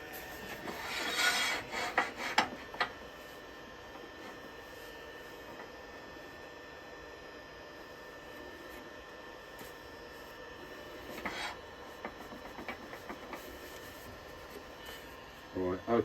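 A woodturning lathe cuts the foot of a wooden plate, giving short bursts of scraping and rubbing against a faint steady hum, close but quiet, with most of the stretch near-still.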